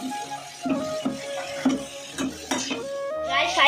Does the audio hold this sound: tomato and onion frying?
yes